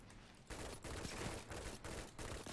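Claws of the Wolf pulse rifle in Destiny 2, fired in a rapid run of close burst shots that repeat in quick clusters, loud and sharp, with no talking.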